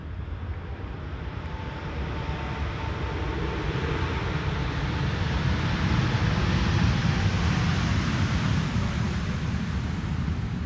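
Air Transat flight 376 airliner arriving from Toronto at Amsterdam Schiphol runway 18R, a broad steady jet roar that swells gradually over several seconds and holds loud and close, with no voices.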